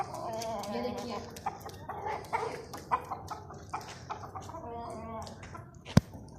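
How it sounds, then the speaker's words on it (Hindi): Desi chickens and roosters clucking and calling in a yard, a steady mix of hen clucks and rooster cries at mid distance, with someone talking over them. "ये मुर्गे हैं, इधर उधर भाग रहे हैं।"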